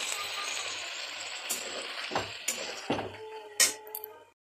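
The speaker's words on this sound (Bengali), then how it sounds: "এবার আমি এটাতে জল দিয়ে দিচ্ছি একটু। আমি যে মশলা বেটেছিলাম সেই জলটাই দিয়ে দিলাম।" Water poured onto ground spice paste in a hot pan while cooking vegetarian aloo dum, giving a steady sizzle and fry broken by several clinks and scrapes of a utensil against the pan.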